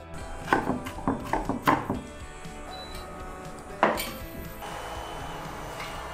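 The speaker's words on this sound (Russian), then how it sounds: "берем зубчик чеснока и также очень мелко нарезаем" A knife finely chops garlic on a board in a short burst of sharp taps, then pauses before one more cut and a quieter stretch.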